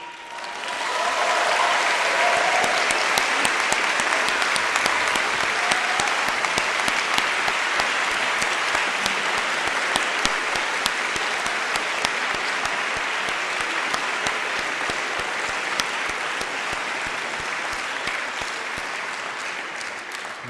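A university awards-evening audience gives sustained, dense applause for the master of ceremonies, holding steady for about twenty seconds before easing slightly.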